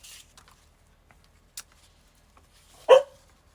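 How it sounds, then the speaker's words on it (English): A pet dog named Emma gives a sharp single bark indoors, preceded by a few faint clicks and small noises in an otherwise quiet room. "I apologize for Miss Emma's barky bark. She does not need to be barking."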